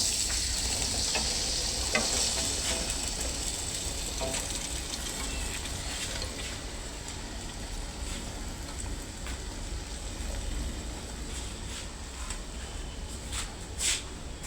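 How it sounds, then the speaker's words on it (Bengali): Chopped winter vegetables sizzle steadily in a hot pan with ginger paste, a continuous close frying hiss broken by occasional stirring scrapes, with no talking. "এখন কেটে রাখা সবজিগুলো দিয়ে দিব"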